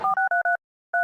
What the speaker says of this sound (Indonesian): Sebentar aku telepon mamaku dulu.